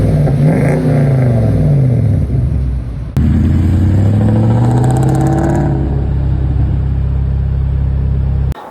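Loud exhaust from a first-generation Toyota Sequoia with a muffler delete, revving up and down in two long sweeping pulls separated by a brief cut, heard up close with no talking.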